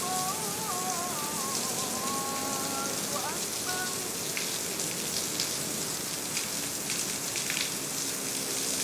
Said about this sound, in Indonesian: Awet ya hujannya.